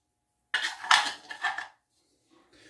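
Shaving soap scooped into a bowl and pressed down by a fingertip for a cold shave, giving a few close, soft clinking and scraping knocks against the bowl over about a second, then near silence with faint rubbing.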